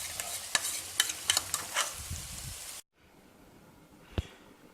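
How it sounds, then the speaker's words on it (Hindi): Quail karahi with yogurt sizzles and fries in a wok as a spoon stirs it in quick scraping strokes, close and moderately loud, then the sound drops away to near silence apart from one faint knock. "अभी इसके अंदर हम इसको फिर भुनाई करेंगे।"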